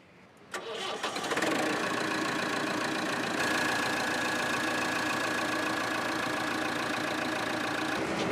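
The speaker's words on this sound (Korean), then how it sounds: "일단 엔진 소리는 좋은데" The diesel engine of a used 1995 heavy machine rumbles to life and settles into a loud, steady idle that drones on without change.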